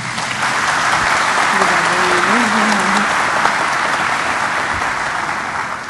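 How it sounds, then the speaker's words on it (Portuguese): Sustained applause from a conference audience, steady and dense for the full stretch, with a brief voice or tone briefly audible beneath the clapping midway. "pedir da parte de vocês um forte aplauso aos participantes"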